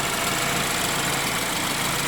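A 2015 BMW 328i with a twin-scroll turbocharged engine sits idling, giving a steady, even mechanical hum with no talk over it.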